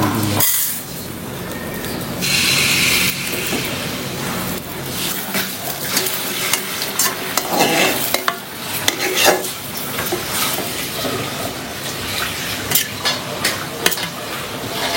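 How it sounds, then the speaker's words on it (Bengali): Eggs fry loudly in a pan while being stirred, with a constant close sizzle broken by frequent scraping and clinks of a utensil against the metal. "হয়ে গেল ডিম ভাজি"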